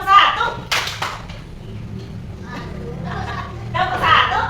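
A class of children gives a single sharp clap in unison, loud and near, followed by a quieter stretch with murmuring voices. A second burst of clapping and chatter rises near the end.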